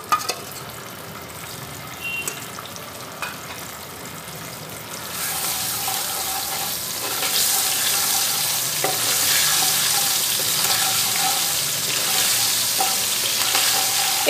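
Ginger and green chili paste frying in oil over a low gas flame, a steady sizzle that swells louder partway through, with a quieter stretch of faint kitchen noise before it.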